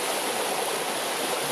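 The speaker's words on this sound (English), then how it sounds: "See the creek down in the banks" A creek flows in its banks, a steady, broad rushing of water heard close and loud, with no voices over it.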